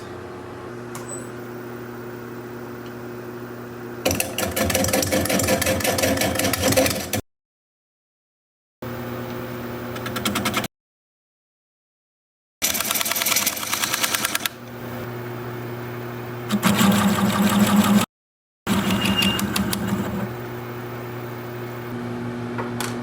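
A wood lathe cuts a recess into a pine bowl: a steady motor hum runs under bursts of harsh scraping and chattering as the tool engages, broken by several dead-silent cuts.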